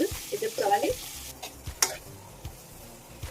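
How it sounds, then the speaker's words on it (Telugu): Crushed garlic cloves and tempering spices, cumin, dried red chillies and curry leaves, fry in oil with a close sizzle broken by scraping stirs and small ticking pops, while a voice talks briefly at the start. "సరిపడా ఆయిల్ పోసుకొని ఎల్లుల్లి రెబ్బలు కచ్చబెచ్చగా దంచుకొని వేసుకోవాలి"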